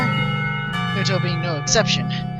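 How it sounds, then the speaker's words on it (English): A school lunchtime bell in the Katawa Shoujo video game rings as a sustained tonal chime, while a voice speaks over it. "The lunchtime bell brings a sigh of relief from the entire class"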